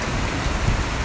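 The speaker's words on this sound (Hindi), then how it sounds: "और ओले भी बरस रहे हैं और ठंड भी काफ़ी ज़्यादा है।" Heavy rain mixed with hail falling outdoors in cold weather in Rawalakot, Kashmir, a dense continuous roar of drops hitting surfaces, loud and close, with no pauses.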